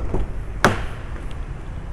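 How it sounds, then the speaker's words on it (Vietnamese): A used 2019 Kia Cerato 1.6 Luxury sedan door swings shut with a single solid, close thump, followed by quiet room tone. "Tiếng đóng cửa chắc nịch luôn anh chị nhé"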